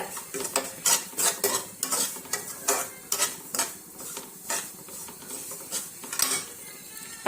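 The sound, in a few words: stirring and roasting semolina in a pan for upma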